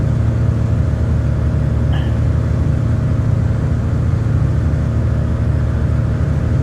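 A Robinson R22 helicopter engine in a flight simulator drones steadily and loudly throughout, a continuous low mechanical hum with no clear change in pitch or level.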